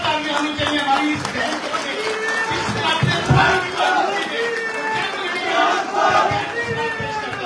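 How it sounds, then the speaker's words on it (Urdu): Crowd at a PTI leaders' press conference in Pakistan cheering and clapping loudly throughout, with shouting voices and a speaker talking over the sustained applause. "میں کہتا ہوں زوردار تالیاں ہونی چاہیے"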